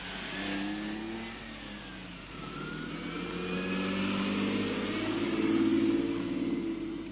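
A Ferrari sports car engine revs and accelerates on a drive through the streets of Monaco, a smooth mid-pitched roar that rises and swells steadily over several seconds, heard close.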